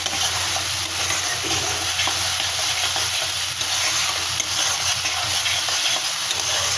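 A spice paste frying in oil, a dense steady sizzle up close with soft stirring scrapes, loud and unbroken with no talk.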